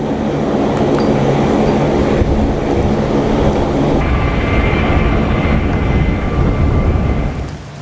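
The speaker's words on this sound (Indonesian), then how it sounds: "HH-060 Pevhawk terbang rendah di wilayah Iran" An HH-60 Pave Hawk helicopter flies low over Iran, producing a loud, continuous rumbling roar of rotor and engine that stays steady throughout, with no voices.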